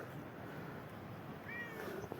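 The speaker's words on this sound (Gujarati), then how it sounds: "ત્યાં બિલાડી પણ છે કાળી જોવો" A black domestic cat gives a short, faint meow near the end, rising briefly over steady outdoor background noise.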